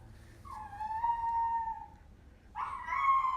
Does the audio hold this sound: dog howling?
yes